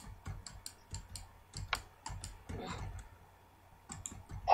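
Mouse clicks during a Terraria game session: a run of light, sharp clicks in irregular bursts, close and fairly quiet, with faint speech in the background.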